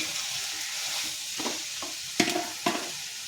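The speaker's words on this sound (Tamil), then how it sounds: "நம்ம வறுத்து வச்சுருந்த மஷ்ரூமு இப்போ இந்த வதக்கி வச்சுருந்த அதுங்க கூட இப்போ இந்த மஷ்ரூமையும் சேர்த்தாச்சு." Mushrooms for mushroom Manchurian stir-fry in a pan, a steady close sizzle broken by a few sharp scrapes and clinks of the spatula.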